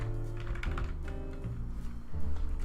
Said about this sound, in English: Let's actually just type it.